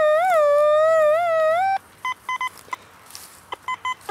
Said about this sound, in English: we do have a solid coin sounding signal right here